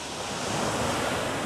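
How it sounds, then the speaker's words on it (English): Ocean waves washing onto a beach near a sea stack on a slow-turning tide, a steady broadband wash of surf with light wind noise, continuous and moderately loud, no voices. "it's either still an incoming tide or it's a very, very slow receding tide"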